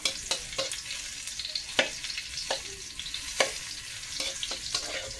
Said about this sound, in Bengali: তো দেখো এটা লাল লাল করে আমি ভাজা করে নিয়েছি